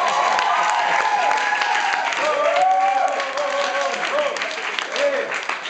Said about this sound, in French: On n'applaudit pas ici